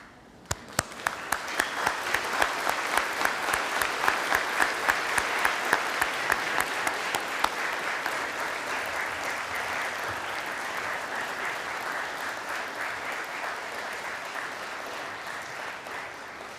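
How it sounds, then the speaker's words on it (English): Graduates at a University of Manchester graduation ceremony applaud their friends and family, starting with a few sharp claps that swell into dense, sustained hall-filling applause, with a rhythmic clap pattern early on. "give them a round of applause for all of the support that they've given you"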